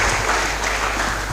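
Audience applause at a university College of Engineering freshmen orientation, honoring the library presenter: a steady, dense wash of many hands clapping throughout, moderately loud and even, with no talk over it.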